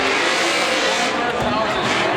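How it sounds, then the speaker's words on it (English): A Formula D drift car slides sideways through a corner at Monroe, Washington, its engine roaring loud and steady with tire noise, while a commentator talks over it. "look at the degree of angle that Forsberg has"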